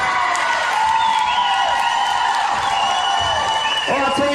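A crowd cheers and whoops for a birthday at a women's Premier 1 basketball final, Dodgers versus Rats, a loud sustained swell of voices with scattered shouts.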